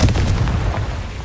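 A booming fire-blast explosion from the Confringo spell in Hogwarts Legacy, one loud, close, low-heavy burst that fills the whole moment and fades slightly toward the end.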